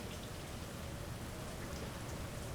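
Steady rain falls as a dense, even hiss with a soft, continuous patter, fairly faint and unbroken, with no voices.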